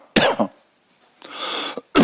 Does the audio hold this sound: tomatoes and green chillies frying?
no